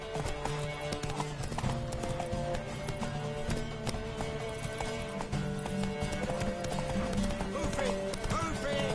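Horse hooves clip-clop at a gallop in The Witcher 3 video game, a brisk continuous rhythm over game music, with a horse whinny and character voices talking at times.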